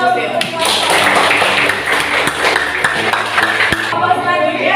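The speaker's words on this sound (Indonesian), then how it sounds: "Berikan aplaus." Classroom applause, a burst of many hands clapping together at close range that stays full and steady for several seconds before tapering off.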